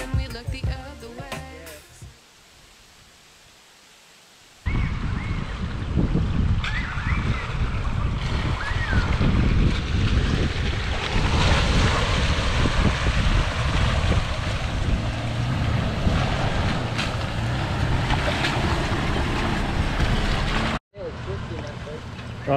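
A Toyota 4WD fords the Howka River at Binderee Hut in Victoria's High Country. After a quiet opening, loud rushing water and engine noise surge and hold steady for about sixteen seconds, then cut off abruptly.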